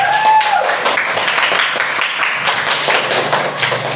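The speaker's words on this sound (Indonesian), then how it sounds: "kasih tepuk tangan lagi buat kelompok 3" An audience in a classroom applauds a group after their presentation, a brisk scattered burst of clapping with a few sharp taps, fairly loud and close and lasting throughout.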